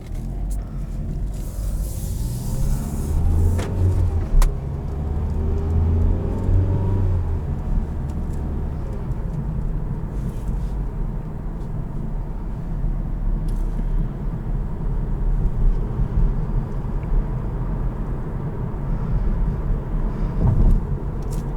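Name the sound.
2016 Mazda CX-3 Grand Touring driving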